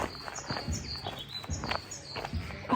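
Small birds chirping near farmland in Georgia, light repeated tweets over faint outdoor background and soft footsteps, fairly quiet and at a moderate distance.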